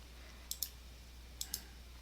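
A computer mouse clicks on a calendar icon: two quick pairs of faint, crisp double clicks about a second apart against a quiet background hum, with no talk.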